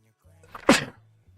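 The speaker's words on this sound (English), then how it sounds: "that sneeze hurt my shoulder" A single sharp, close sneeze bursts out alone, briefly loud against a quiet room.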